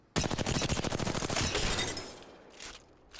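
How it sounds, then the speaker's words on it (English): An R-301 rifle fires in a video game at a training bot, a fast, loud, evenly spaced automatic burst lasting over a second, then ringing echoes and a few faint later impacts. "I'm gonna shoot this bot without moving, and then I'm gonna shoot this bot while moving"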